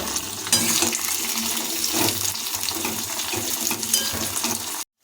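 Pieces of pointed gourd fry in oil in a wok, giving a steady, dense sizzle that holds at the same loudness throughout and cuts off abruptly at the end, with no talking.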